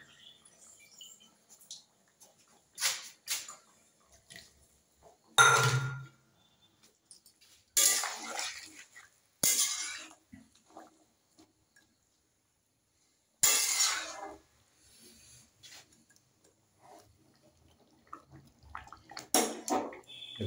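Water is poured and splashed into a bowl of rice paste during home cooking, coming as several short, irregular bursts with faint clinks of utensils in between, fairly close and with no talking.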